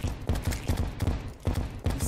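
Cannon fire in the video game Terraria, a rapid series of about eight punchy booms in a steady rhythm, loud and close with no voices.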